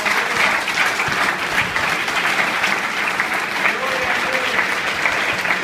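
A church congregation gives loud, sustained applause for a newly appointed co-pastor, a dense, steady roar of clapping from many hands that fills the room throughout.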